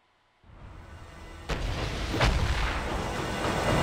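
An explosion rips through a neighbouring building in Resident Evil 6: after a brief silence a dull rumble sets in, then a sharp blast and a second burst give way to a loud, sustained roar of fire and debris.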